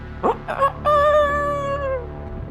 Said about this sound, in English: Comes morning, you hear the roosters